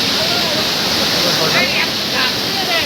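Loud, steady rushing of the Borjhora waterfall in the hilly jungle near Bongaigaon, Assam, a constant broadband roar of falling water close by, with faint voices beneath it.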